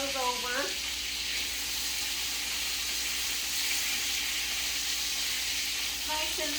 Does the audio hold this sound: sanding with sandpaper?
no